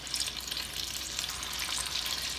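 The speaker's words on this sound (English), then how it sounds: "Put that into the oil. Yeah, it's sizzling real nice." Bright, crackling sizzle of potato pancake batter frying in hot oil, steady and close, with no one speaking.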